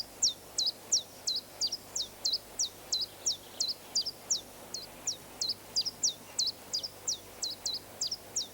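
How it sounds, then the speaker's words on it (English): A chiffchaff sings its repetitive two-note phrase, about twenty evenly spaced high chirps in a steady seesaw rhythm, clear and fairly close over quiet background. "The chiffchaff has a very recognisable repetitive phrase."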